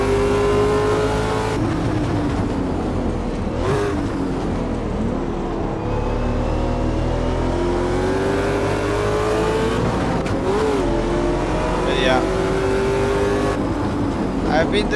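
A race car on a track day accelerates hard, its engine note climbing and falling through gear changes as a Porsche runs nearby, loud and continuous with brief tire squeal.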